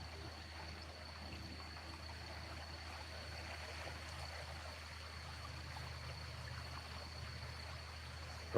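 Swollen river water flowing steadily after heavy upstream rain, a continuous broadband rush with no distinct splashes, moderately distant and constant throughout.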